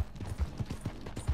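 Hoofbeats from an Arabian chestnut horse in a video game clop in a quick, steady rhythm, close and moderately loud, with no talk over them.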